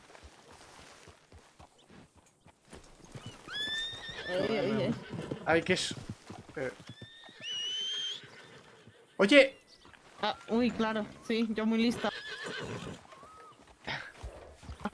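A horse in the RedM video game neighs and whinnies with rising, squealing calls among hoof clip-clops, while people chat over it in Spanish throughout.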